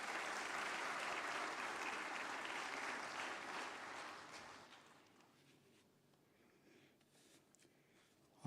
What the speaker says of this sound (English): May you please have a round of applause for his welcome